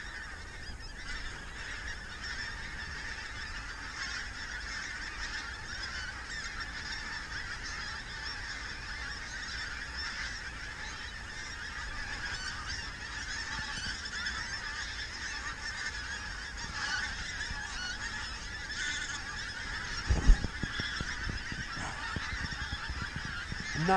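A steady chorus of pink-footed geese honking and calling, many birds at once in a continuous wash of noise, with a few louder close calls near the end.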